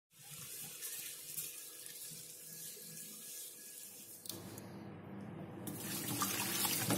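Excess water drains off boiled rice husks in a steady running-water rush, like a faucet into a sink, close up and continuous. The flow grows slightly louder toward the end, with no voices.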